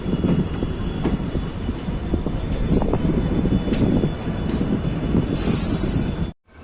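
Uttar Sampark Kranti passenger train running out of Kathgodam through a curve, a steady loud rumble of wheels and carriages with faint squeaks, continuous and close for several seconds before cutting off abruptly.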